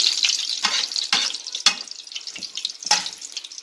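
Egg-battered chile relleno stuffed with dry cheese fries in a pan with a bright, crackling sizzle, broken by several sharp spatula scrapes and taps spaced through the pan.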